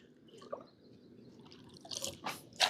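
Water is scooped into a container near a lake while preparing to feed fish, with soft drips and splashes that grow louder toward the end.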